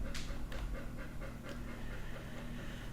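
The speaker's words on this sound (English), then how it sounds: "If you can hear a small train in the background, it's actually my dog." A dog pants rapidly and rhythmically close by, a steady chugging breath like a small train running under a constant low hum.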